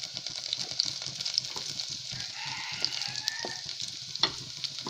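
Chopped onion frying in a pot for porridge, a steady quiet sizzle broken by occasional stirring scrapes and clinks, close and with no talk.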